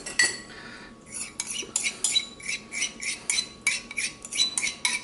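A utensil scrapes and clinks around a bowl of wet ingredients for beet pasta. The bright metallic strokes repeat in a quick, irregular rhythm, close and fairly loud, with no talking.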